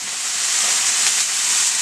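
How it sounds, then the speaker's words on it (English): Steady, loud sizzling hiss of salmon frying in a hot cast iron pan, a continuous broadband crackle with no voices. "Look at that baby sizzle."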